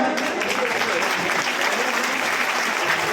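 Steady, dense applause from an audience at a Chaurasia community conference held in a primary school courtyard, loud and continuous throughout with no pauses.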